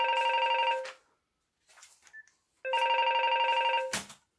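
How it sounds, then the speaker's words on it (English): An old-style telephone bell rings in two long trilling bursts separated by a pause, close and loud, with a brief click and faint noises between rings. "Who could that be ringing me?"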